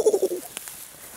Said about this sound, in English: There's freaking birds all over the place.